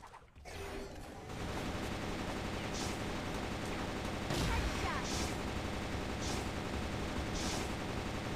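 Shooting in the mobile game Arena of Valor: a loud, continuous wash of rapid fire with periodic sharper bursts, dense and unbroken after a brief quieter start.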